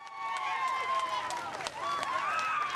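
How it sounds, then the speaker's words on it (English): A crowd cheers and shouts outdoors outside the courthouse after the Sandusky trial, a steady roar of voices at moderate distance with no clear pauses. "cheers from a crowd gathered to be a part of what they believe is the end to one of the most scandalous trials of our time"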